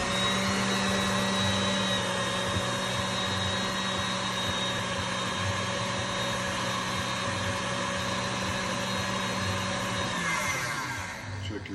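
Electric hand mixer whipping cream for a three-ingredient no-churn vanilla bean ice cream, a steady close motor whine running without a break before slowing near the end.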